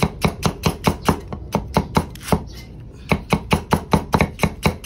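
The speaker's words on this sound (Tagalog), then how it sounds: "i-chap-chap lang natin para pantay ang kanyang laki" Goat head and feet being chopped into even pieces with a cleaver on a board: a fast, steady run of loud, sharp thuds that pauses briefly and then resumes, with no talking.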